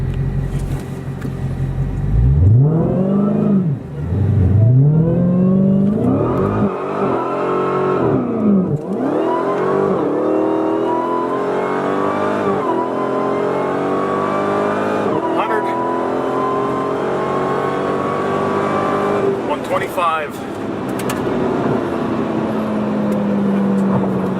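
A 2018 Dodge Demon in drag mode accelerates hard with a transbrake, its engine note climbing in loud sweeping rises and dropping at each crisp gear change, heard from inside the cabin while occupants talk over it.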